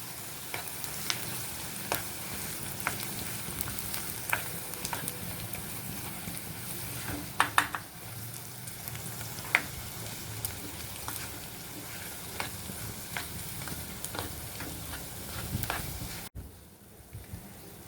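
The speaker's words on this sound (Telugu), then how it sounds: "ఇది బాగా కొద్దిగా ఆయిల్లో బాగా మగ్గిపోవాలి, ఫ్రై అవ్వాలి, లిటిల్ గోల్డెన్ బ్రౌన్ వచ్చేంత వరకు." Onions frying in a little oil for a moong dal kachori filling, a steady soft sizzle with occasional stirring scrapes and clicks of a utensil against the pan throughout.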